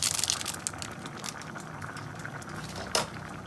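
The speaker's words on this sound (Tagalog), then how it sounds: "Ayan, kulong-kulo na." A pot of mung beans (monggo) at a rolling boil, giving a steady bubbling, crackling hiss with brief louder pops, close by and with no voices.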